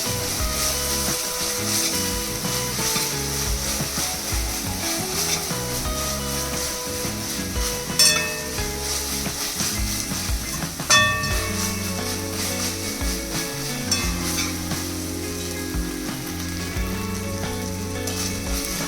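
A spoonful of ginger garlic paste sautés over fried onions in a kadhai for dhaba-style shev bhaji, giving a steady close sizzle with occasional scrapes and clinks of a spatula against the pan.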